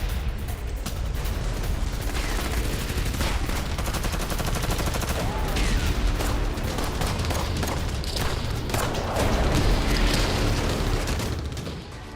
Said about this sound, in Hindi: वॉरजोन में सेल्फ प्रोपेल्ड गन मिसाइल्स का भी एक्शन नजर आया